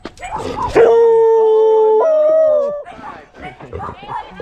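A dog howls loudly and steadily for about two seconds, pitch rising partway through, with people talking before and after.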